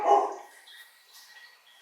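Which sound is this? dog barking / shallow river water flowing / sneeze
dog barking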